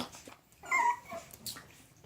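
Young Shih Tzu puppies, eight weeks old, giving soft, high whimpers and a small yip near a bath, quiet short cries spread over a couple of seconds with no talking.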